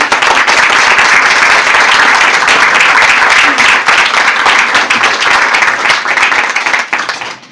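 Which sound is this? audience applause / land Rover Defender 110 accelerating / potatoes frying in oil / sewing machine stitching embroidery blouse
audience applause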